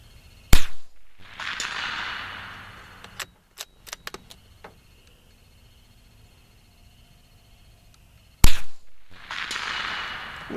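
Two sharp rifle shots from a Savage Mk II FV-SR fired at a target 200 yards away, each a loud crack with a short decaying tail, spaced about eight seconds apart, with faint clicks and handling noises between them.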